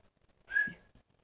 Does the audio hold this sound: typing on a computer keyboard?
no